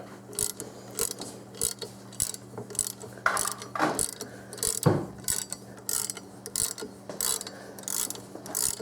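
Ratchet wrench working studs loose from the timing cover of a 1995 Oldsmobile 3800 engine, rapid clicking ratchet bursts repeated in quick strokes, close up, with a few metallic clunks and no speech.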